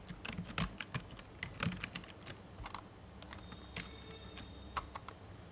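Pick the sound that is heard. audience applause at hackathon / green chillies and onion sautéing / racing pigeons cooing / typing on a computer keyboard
typing on a computer keyboard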